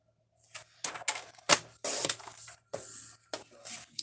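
Card paper being cut for handmade cards: a series of short, sharp slicing and scraping bursts, close and separated by brief pauses, with no talking.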